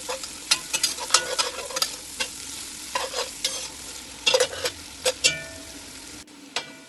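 Chopped garlic, onion and a pinch of hing frying in a pan for a homestyle saag meal, with repeated sharp spoon scrapes and clacks over a steady close sizzle; a brief pause near the end.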